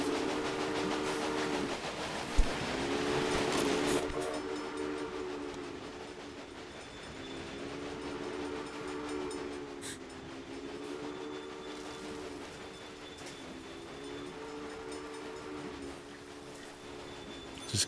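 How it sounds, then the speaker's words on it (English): A train in the railway video game Railway Empire rumbles along with a continuous clattering roll and a long sustained horn tone that wavers, loud and close, with no talking. "Stop randomly breaking down, you stupid train."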